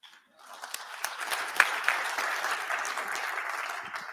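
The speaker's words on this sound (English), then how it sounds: "Please join me again in welcoming Grant Falco to the stage with a warm round of applause" Audience applause welcomes a speaker onto the stage at a live EDx talk event in Louisville, a steady wash of clapping that rises after a brief quiet start and holds at moderate level.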